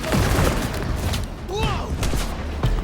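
Gunfire rattles through a combat scene in Vampire: The Masquerade – Bloodlines 2, with repeated booming shots and thuds mixed under shouting voices and a dense, loud game soundscape.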